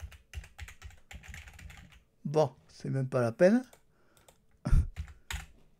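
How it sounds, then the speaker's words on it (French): Someone types on a computer keyboard, tapping keys rapidly in short bursts, loud and near, then someone speaks in French over and after the typing. "j'appuie sur les claviers, ça marche pas"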